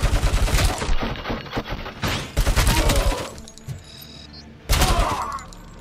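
Shotgun fire in the video game RoboCop: Rogue City: heavy, close blasts arrive in three separate bursts, each a cluster of sharp booms with short gaps of game noise between them.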